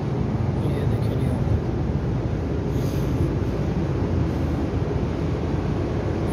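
A Japanese train running, heard from inside the carriage as a continuous loud rumbling roar with steady rail noise throughout, no clear breaks.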